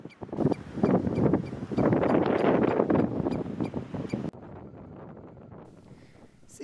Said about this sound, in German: Es ist heute leider den ganzen Tag extrem windig und sehr ungemütlich.